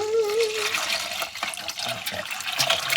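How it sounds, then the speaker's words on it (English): Pokeberry dye is poured from a pot through cheesecloth into a bowl, a steady close splashing pour that runs the whole time while a person talks over it. "I'm just going to take this the pot of the dye and the pokeberries and pour it all"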